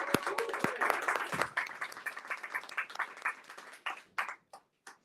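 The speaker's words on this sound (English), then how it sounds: "Let's give a round of applause for the film." An audience applauding after a film screening at a book signing event, a burst of clapping that thins out into scattered individual claps and fades away.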